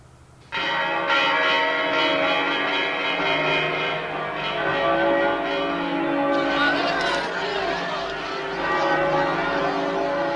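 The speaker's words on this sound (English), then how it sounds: "The church bells began to ring." Church bells ringing continuously and loudly, many overlapping tones sounding together in a sustained peal from start to finish.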